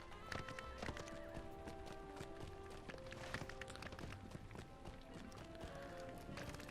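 A war steed gallops through Minas Tirith in the Lord of the Rings Online game, with rapid continuous hoof clip-clops at a steady running rhythm, fairly faint, over game music.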